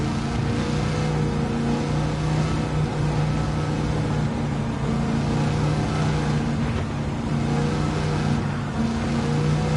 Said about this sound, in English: Got that nice muscle car sound.